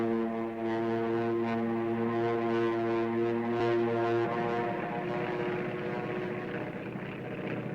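A propeller airplane drones steadily in flight, a loud, close, continuous engine hum with a strong pitched tone that shifts partway through, without any talk.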